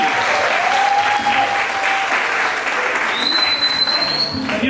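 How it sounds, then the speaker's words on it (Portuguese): A studio audience on a Brazilian night talk show breaks into loud, sustained applause for the waiter Danilo, with a whistle and a faint voice over the clapping. "Passava de palmas pro Danilo, gente."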